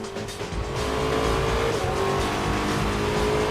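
Race cars roar in career-mode racing in Forza Motorsport 3, a loud, sustained engine drone with tire squeal layered in, no talking.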